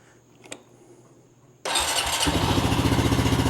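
A Honda Rancher 420 ATV, serviced after stumbling and stalling, gives a small click, then cranks and suddenly catches into a loud, steady, throbbing idle up close.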